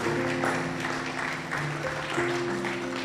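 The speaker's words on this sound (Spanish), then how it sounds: "Y dale un aplauso al Señor de agradecimiento," A church congregation at a Sunday service claps in thanks, brief steady applause over held keyboard tones.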